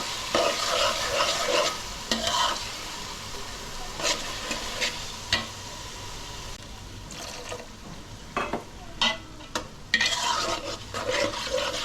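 Ginger garlic paste frying with onions in a pan, a soft sizzle under repeated scraping and stirring strokes that come in irregular bursts, close and fairly quiet, with no talk.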